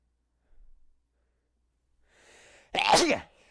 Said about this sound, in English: See, that was one sneeze.